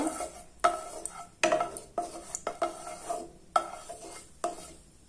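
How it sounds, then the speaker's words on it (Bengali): Oil is stirred in a hot kadai with a metal spoon for a jujube pickle, producing a series of sharp scraping clinks against the pan over a faint sizzle, heard close and alone. "তেলটা একটু নাড়াচাড়া করে দেব।"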